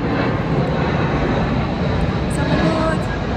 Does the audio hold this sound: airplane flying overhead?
yes